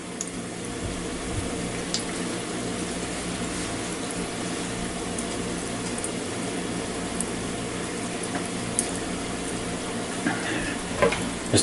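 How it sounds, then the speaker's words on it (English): Croquettes frying in a pan of oil, a continuous even sizzle with faint bubbling and occasional small crackles, heard close and alone. "we'll give the first ones another couple of minutes as they fry up"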